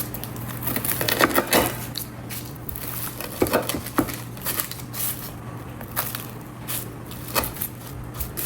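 Knife slicing through crispy pork belly, crunchy crackling cuts and crushing pops close up over a steady low hum, with a few sharper cracks and no speech.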